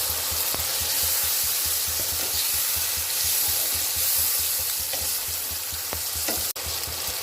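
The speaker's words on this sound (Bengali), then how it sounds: "এখন এর মধ্যে আমি কড়াইশুঁটিগুলো দিয়ে দিলাম" Green peas sizzle and crackle in thick masala in a kadai for a mushroom matar curry, with a steady close frying hiss and regular scraping stirs throughout.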